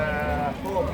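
At the Khojaobod livestock market, a sheep lets out one loud, close, wavering bleat lasting about a second.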